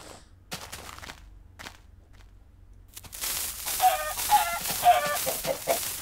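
Chickens cluck and squawk repeatedly in the Hack/Mine video game, loud and busy in the second half after a quieter stretch of sparse game sounds.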